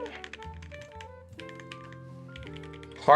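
A custom-built Keycult mechanical keyboard with PBT keycaps being typed on, giving a quick run of close, crisp key clacks over a soft tonal background, ending in a brief louder burst.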